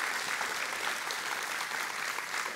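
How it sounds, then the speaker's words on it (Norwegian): Steady, even applause from an audience at a Venstre party national conference, a dense wash of clapping heard from a distance without pause. "det synes jeg fortjener en applaus."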